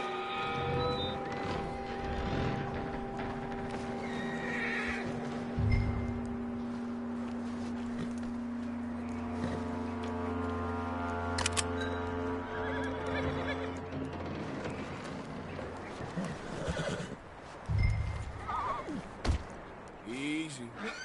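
A horse neighs and whinnies with hoof clops and footsteps on a continuous ambient bed, apparently in a video game, with people talking over it throughout.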